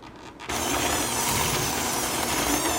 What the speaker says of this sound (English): Towards the end, you can increase the speed if you want, depending on your hand mixer.